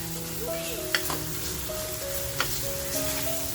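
Spiced masala with cashews sautéing in a pan for shimpli kaju masala, giving a continuous close sizzle broken by a few sharp spoon taps against the pan, with music underneath and no talking.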